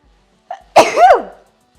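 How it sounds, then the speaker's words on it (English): A single close, sharp sneeze from one person, a brief soft intake just before it and then a loud burst that tails off quickly, with no talking around it. "I sneeze."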